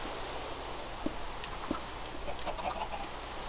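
Chickens in a Minecraft game cluck in a few short, quiet bursts over a faint steady background hum.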